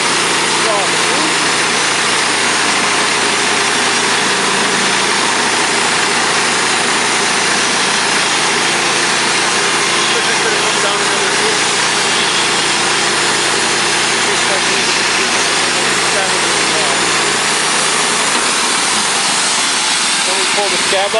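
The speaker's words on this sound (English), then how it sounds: "The engine with the blade, and it doesn't take much effort to push the saw through." A Woodmizer sawmill's engine runs loud and steady as the blade pushes through wood, a dense continuous drone holding for the full stretch without a break.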